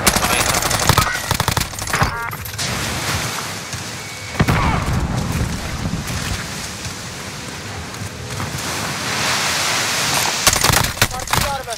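Gunfire in a Call of Duty Warzone quads match on the Caldera map, rapid automatic bursts and scattered shots crackling throughout under game radio voices and players talking.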